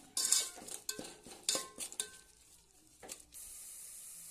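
Spices frying in oil in a pan, with faint scraping and clinking stirring strokes in an uneven rhythm, then a steady soft sizzle taking over near the end.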